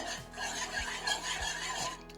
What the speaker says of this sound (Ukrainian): ставимо це все діло на вогонь, розмішуємо